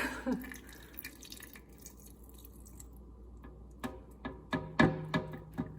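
Fresh lemon juice strained through a small strainer to catch a seed, with faint drips and wet little taps building into a few sharper clinks and splashes near the end, quiet and close.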